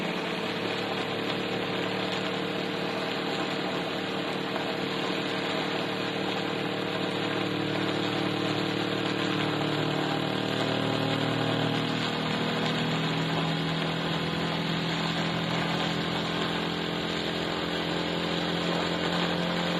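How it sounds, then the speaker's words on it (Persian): A brushless quadcopter drone motor spinning at about 25,000 rpm, giving a loud, steady, continuous high whine and buzz that holds unbroken throughout with no talking. "موتورهای کوادکوپتر هستش که برای پهپاد یا کوادکوپتر استفاده میشه"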